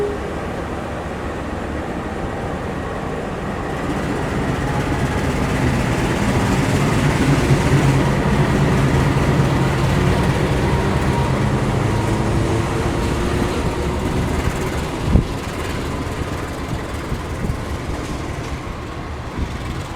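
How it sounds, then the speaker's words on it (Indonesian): A locomotive being uncoupled from the Wijaya Kusuma train at a station, a loud, steady diesel rumble that swells and fades, with one sharp metallic clunk near the end. "ini lokomotif mulai dilepas dari rangkaian"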